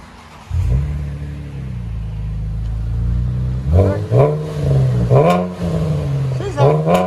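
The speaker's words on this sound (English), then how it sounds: "So we did a muffler delete and a FLOWMASTER 10 series Outlaws. Right there, race mufflers." A 2012 Chevy Camaro RS V6 with a muffler delete and Flowmaster 10 Series Outlaw race mufflers on dual exhaust idles with a deep rumble, then is revved hard several times. The loud, close blips rise and fall in quick succession.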